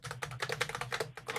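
Rapid typing on a computer keyboard, close and steady, with dense quick key clicks filling the brief moment and no voices.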